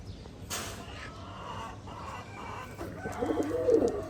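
Pigeons coo on a rooftop pigeon farm, soft and low at first, then a louder, closer run of cooing near the end over a faint background hum.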